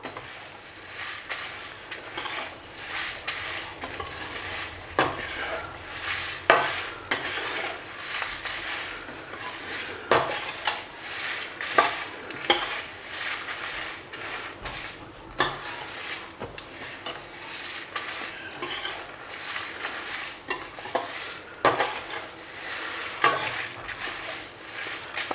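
Achari masala spices dry roasted and stirred in a pan, with a steady scraping and rustling of a spoon against the pan, repeated in irregular strokes, close and moderately loud, no talking.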